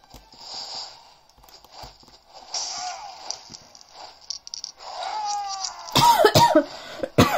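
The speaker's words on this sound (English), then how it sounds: "wait, coughing apparently" Several short, harsh coughs from a character in LEGO The Lord of the Rings burst out near the end, after quieter game ambience and scattered clicks.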